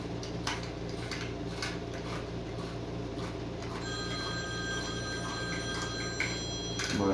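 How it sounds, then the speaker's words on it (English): A phone rings nearby while a Lionel 8040 train set is unboxed, a repeating bell-like trill that starts partway through and continues steadily over faint handling clicks and taps. "My phone is ringing."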